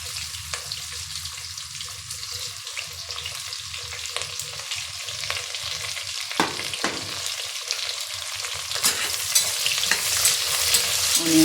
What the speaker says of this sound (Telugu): ఇప్పుడు అందులో ఆనియన్స్ వేస్తున్నానండి.